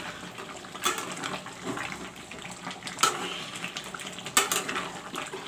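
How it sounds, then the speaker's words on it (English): Mutton frying with masala in a pan, a faint, steady sizzle broken by a few sharper crackles and pops, heard alone without talking. "Friends, the mutton is getting fried along with the masala."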